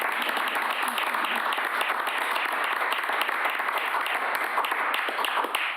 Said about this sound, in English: we should give a small round of applause maybe here just for that